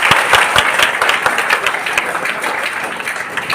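An audience at an on-stage skill development presentation breaks into loud, continuous applause, with crisp individual claps standing out in the dense wash of hands.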